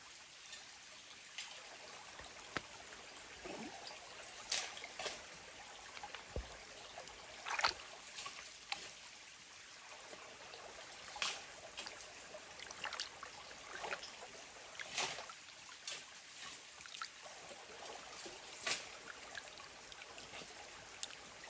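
Creek water flows and trickles steadily in a quiet outdoor setting in Appalachia, a faint, continuous babble with small splashes and no talking.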